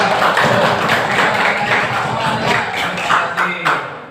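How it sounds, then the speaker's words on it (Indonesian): Classroom pupils clap their hands together in a dense, sustained burst of applause lasting several seconds, with a few louder claps standing out near the end. "tepuk tangan dulu"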